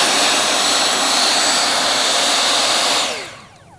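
An E-Flite Viper 64mm EDF RC jet roars with a loud, steady ducted-fan whine, then fades quickly as it pulls away in the last half second.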